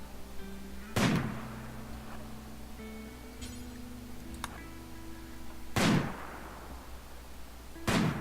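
A newly acquired rifle firing in the colony game Rimworld: three sharp, fairly faint reports spaced several seconds apart, standing out over a low steady hum and faint tonal game sounds.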